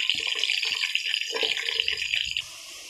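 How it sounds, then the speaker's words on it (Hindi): Onions frying in a pan for chicken biryani, giving a steady, close hiss and sizzle that runs for a couple of seconds before dropping away quieter. No one talks. "अब मैंने इसमें प्याज डाल दिया, तो अब हम प्याज को फ्राई कर लेते हैं।"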